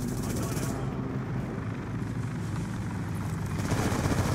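Helicopter rotor thumping from Black Ops 2 multiplayer, a steady chopping drone at moderate level under a player's voice and game sounds.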